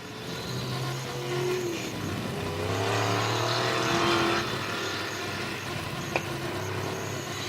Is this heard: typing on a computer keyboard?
no